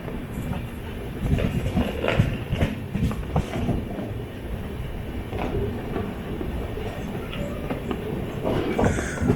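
The 16315 Mysuru - Kochuveli Express runs on the Chennai-Mangalore main line, carriages rumbling steadily with clickety-clack wheel beats and faint squeals, heard from inside the train.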